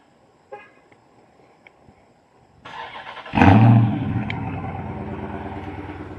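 A car engine cranks and catches after a few faint clicks, then settles into a loud, steady idle rumble close by, with no talk over it.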